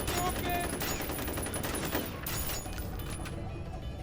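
Dense gunfire in the video game F.E.A.R., a loud continuous barrage of rapid shots against heavy enemy units, sustained for about four seconds with no talk.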